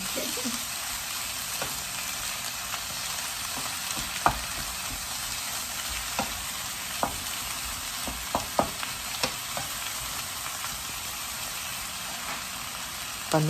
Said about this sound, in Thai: ผัดผัก ให้สุกก่อนนะคะเพื่อน